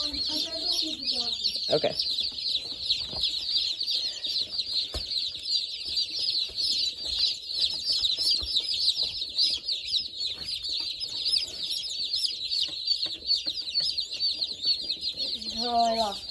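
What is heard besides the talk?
baby chicks, buff Orpingtons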